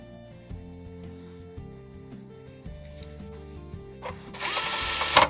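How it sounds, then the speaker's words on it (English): A freshly charged DeWalt power tool whirs up loudly in a short burst near the end, rising over a steady musical background. "Freshly charged DeWalt tool"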